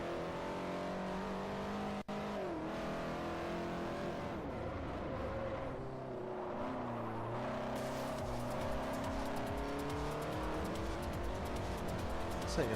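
Race car engine in the video game Forza Motorsport 4, understeering through corners: steady revving tones rising and falling with gear shifts and faint tire scrub throughout.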